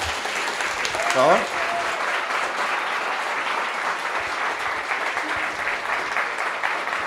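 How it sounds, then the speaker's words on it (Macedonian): An audience at a functional programming talk breaks into steady applause that fills the clip. A speaker briefly says a word near the start. "Прво аплауз ве молам"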